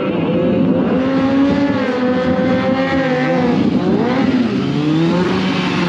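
A motorcycle holds a sit-down wheelie at a Scottish motorcycle show, its engine droning loud and steady at held throttle, with a rising and falling pitch and no speech.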